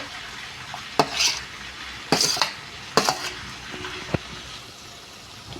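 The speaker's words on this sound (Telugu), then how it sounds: "ఇప్పుడైతే నేను మొత్తం కలుపుకుంటున్నాను ఆనియన్ అండ్ టమాటోస్లో చికెన్" Chicken being stirred into onions and tomatoes in a pot: a few sharp spoon scrapes and clanks against the metal, spaced about a second apart, over a faint low sizzle, close and fairly quiet.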